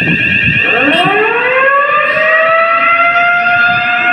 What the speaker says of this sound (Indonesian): maka suara sirene tersebut akan berubah menjadi seperti ini kira-kira